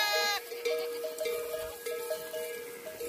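Sheep and lambs bleat repeatedly in a flock out in a forest, several overlapping calls near and mid-distance with no talk.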